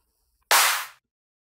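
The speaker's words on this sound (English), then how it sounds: "And also my own clap, which sounds like this." A single self-made clap drum sample for an electronic track hits as a clean, bright noisy burst that fades in about half a second, with silence around it.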